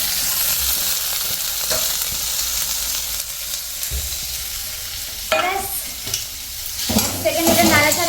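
A whole fish frying in a pan with tomato, giving a continuous sizzle while it is stirred, with scraping bursts of stirring and louder spatters toward the end, close up and with no voices.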